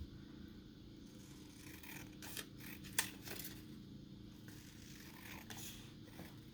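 Scissors cutting out a paper shape, a few quiet snips and scrapes clustered in the middle over a low steady hum, faint and close.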